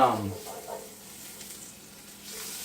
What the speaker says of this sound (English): going to fry my steak in butter because everybody likes butter